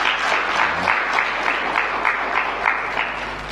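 An audience at a youth day address applauding steadily, a dense wash of many hands clapping at close range for several seconds without a break.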